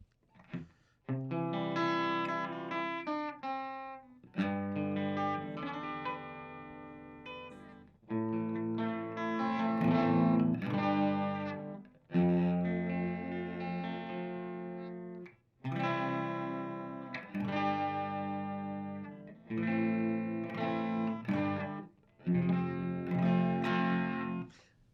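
Distorted electric guitar chords played through Angry Widow pickups ring out in several sustained phrases separated by brief pauses, loud and close, with no talking.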